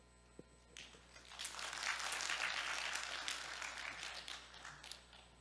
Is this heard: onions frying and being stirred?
no